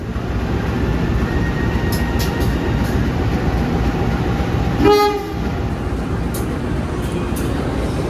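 The Joglosemarkerto passenger train on the Jogja–Central Java loop line passes, heard from inside another train as a steady, loud rail rumble with a brief tonal horn-like blare midway.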